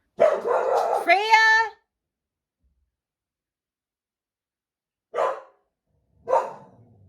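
Freya, a pet dog indoors in a building, lets out a loud run of barks and yelping whines for over a second, then falls quiet before two short, fainter yips follow several seconds apart.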